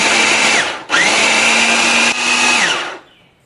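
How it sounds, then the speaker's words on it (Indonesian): An electric grinder whirs loudly while grinding the second half of a batch of cooking ingredients. The whine runs in a long burst, stops briefly, restarts, then winds down to quiet. "Kemudian kita akan giling separuhnya lagi."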